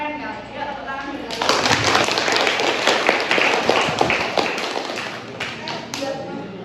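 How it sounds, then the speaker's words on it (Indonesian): A classroom breaks into applause, many hands clapping in a dense, loud, rapid patter close by for several seconds, with voices talking and calling out over it. "tepuk tangan dulu"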